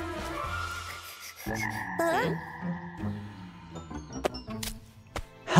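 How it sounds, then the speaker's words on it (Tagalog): A cartoon frog croaks in a children's animated scene, a few short warbling calls over light background music and small clinks. "isang palaka"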